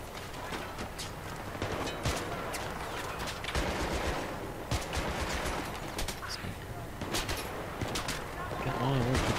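Battlefield 3 co-op match with repeated gunfire bursts and scattered shots running steadily through a busy battlefield din, with voices mixed in.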